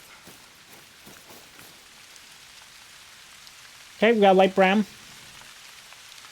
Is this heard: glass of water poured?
no